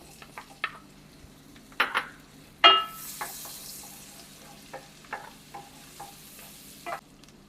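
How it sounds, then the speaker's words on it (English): Chopped onion dropped into hot oil and a tablespoon of butter in a pan for Jamaican roast fish, sizzling steadily while a utensil scrapes and clinks in a few sharp stirs, close up with no talking. "Now I'm going to add the onion."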